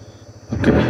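Yamaha MT-15 motorcycle engine, a 2025 model, running close by, a low steady rumble that swells into a fuller, louder engine note halfway through the brief moment.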